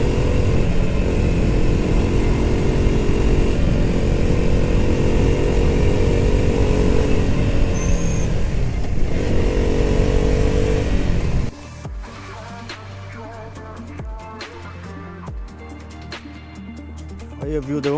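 A KTM motorcycle engine drones steadily while riding on a mountain road in Uttarakhand, mixed with wind rush, then cuts to quieter idling with a person talking over it.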